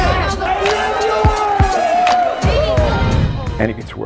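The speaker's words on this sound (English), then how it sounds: "Applause time." A crowd cheers and shouts for a celebrity chef, a loud, rowdy swell of voices with sharp hits and scattered claps mixed in.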